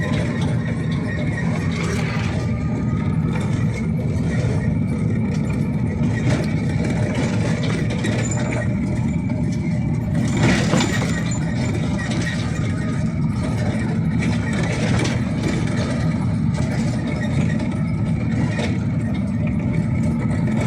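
A tractor engine idling nearby, a steady low rumbling drone that holds constant throughout with no clear revving.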